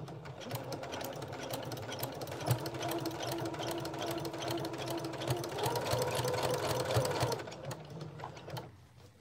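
Home sewing machine running steadily through a straight stitch and backstitch on fabric, a continuous close mechanical whir with slight shifts in pace.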